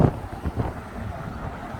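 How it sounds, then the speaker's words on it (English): Steady low, cold wind buffeting a microphone outdoors, a rumbling gusty roar with a few stronger bursts early on, no voices. "it's so windy and cold for some reason"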